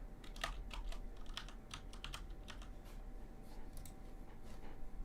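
Irregular keystrokes on a computer keyboard tick and clack nearby at a soft level, spaced out with small flurries, alone without speech.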